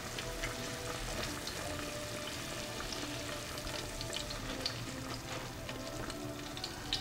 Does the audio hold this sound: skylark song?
no